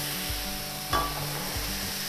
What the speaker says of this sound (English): Let's not move that mince around too much and just let it start to caramelise.